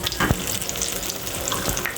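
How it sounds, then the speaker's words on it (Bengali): Sweet pumpkin fritters fry in oil with a dense, close sizzle and occasional bubbling crackles throughout. "এখানে মিষ্টি কুমড়ার বড়া ভেজে দেওয়া হচ্ছে।"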